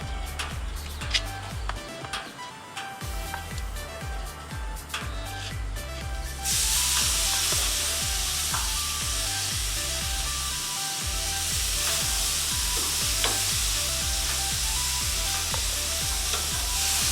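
Carne asada steak sizzles on hot, spray-oiled grill grates, a loud steady hiss that swells sharply as the meat lands and continues evenly with small crackles throughout.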